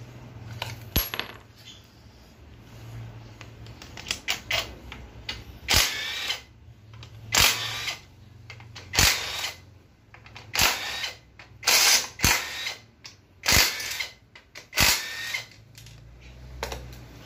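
A power tool whirs in short repeated bursts while removing the oil pump bolts from the transmission of a 2007 Toyota Harrier automatic, with pauses and faint clinks between bursts. The tool is near and fairly quiet, with no talk.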